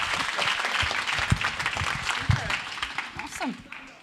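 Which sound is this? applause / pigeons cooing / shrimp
applause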